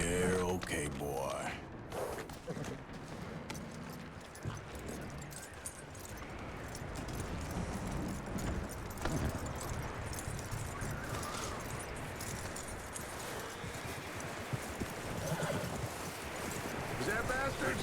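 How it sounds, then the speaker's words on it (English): Horse hooves clip-clopping in the Red Dead Redemption 2 video game, a steady walking rhythm of hoof falls under game music and ambience, with a character voice speaking over it. "That looks like a decent horse."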